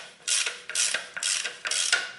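A ratchet tool cranks loose the automatic transmission drain bolt on a 2000s Toyota Corolla, giving four bursts of rapid clicking separated by short pauses, close and clear with no talking.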